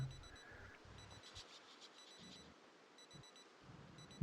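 A wristwatch alarm beeps inside a survival video game, sending thin, high bleeps in short repeating bursts over a low, uneven game background.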